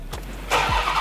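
Dodge Ram TRX pickup engine starting from inside the cab: a brief starter whir, then a sudden loud catch into a deep, rumbling idle, close and clear.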